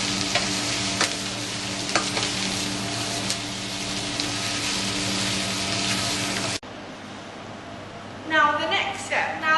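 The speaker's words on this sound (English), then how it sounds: "stir and cook that mixture until it is soft" A garlic mixture fries and is stirred in a pan of oil for a vegetable curry, giving a steady loud sizzle under a low mechanical hum, which drops suddenly partway through before scraping stirring noises return near the end.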